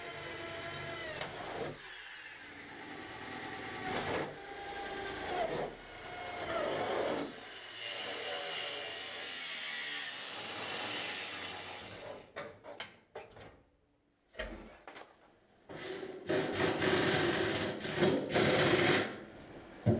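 A power drill whines in repeated bursts, drilling out spot welds in car chassis metal with grinding chatter, pausing briefly between holes; close and fairly loud, no talking.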